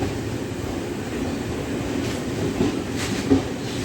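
A DEMU train runs along rails with a steady low rumble and faint rhythmic wheel clacks, heard from on board at a constant moderate loudness.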